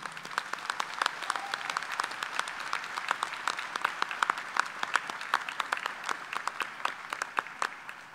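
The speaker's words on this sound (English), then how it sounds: "Let's give her a big round of applause." Steady applause from a commencement ceremony audience at a university in fall: many hands clapping in a dense, even patter that fills the hall and carries on throughout at a moderate level.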